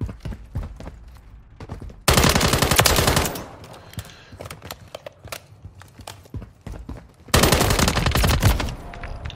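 Video game gunfire comes in two long, loud automatic bursts with short scattered shots between them, close and harsh, under faint background game noise.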